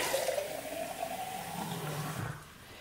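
Liquid, broth for an East German egg ragout, streams into a pot in a steady pouring gush, its pitch rising gradually as the pot fills, then tapering off near the end.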